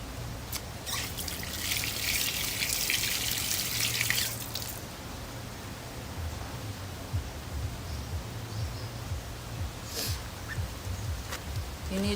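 Water trickles and splashes as clothes are washed by hand in the Philippines, with a bright hissing gush at first, then softer dripping and sloshing, and a low hum beneath.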